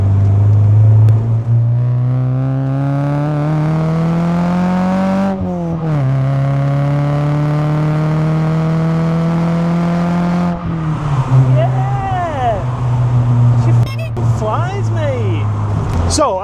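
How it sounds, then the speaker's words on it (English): A Ford Escort Mk4 van with a Mk3 front end and a swapped ST170 engine revs hard and loud, its note climbing through gears with brief dips at shifts, close and continuous for the whole stretch. "this is a Mk4 Escort van with a Mk3 front end and an ST170"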